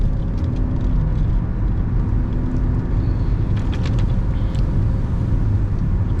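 Steady car engine and road rumble from inside a vehicle building up speed on a driving lesson, a loud continuous low drone with faint higher whine, no voices.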